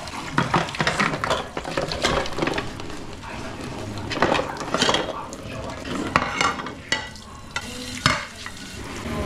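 A wok is washed by hand in a home kitchen, with steady water splashing and repeated clatter and scraping of metal close by, and no talking.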